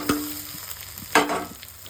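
Sliced roti strips frying in a pan, a steady near sizzle broken by two sharper scraping stirs of a spatula, no talk.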